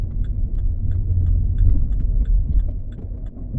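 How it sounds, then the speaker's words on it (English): Cars approaching and passing along a road, a steady close low rumble of engines and tyres with faint rhythmic ticking over it, no talking. "there's 2 bloody cars coming down"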